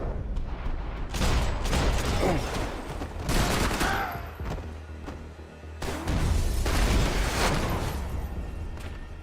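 Dense bursts of gunfire in the Max Payne 3 video game, loud and close, in rapid volleys with booming impacts, a short lull near the middle, and no talking.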